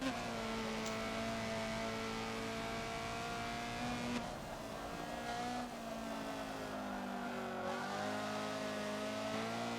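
Rear tires of a Honda CRX squeal faintly under a steady, loud engine drone and shifting revs as the car corners at Sonoma Raceway in a Forza racing game, alone without talk.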